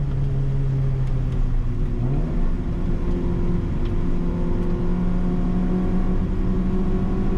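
A Honda Civic race car's engine on the Silverstone circuit, heard loud from inside the cabin as a steady whine that drops sharply on a downshift and then climbs again under full throttle.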